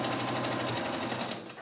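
Sewing machine stitching a shoulder seam: a rapid, steady mechanical whir with fast repetitive stitch ticks, close and continuous, slowing slightly at the end.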